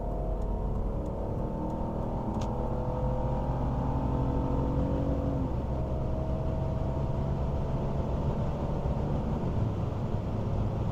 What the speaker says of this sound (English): Go for a downshift here.